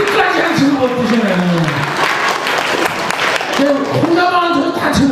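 Audience members at a comedy performance in a church hall clap under loud, animated talking and singing-like vocalizing that runs over the applause throughout.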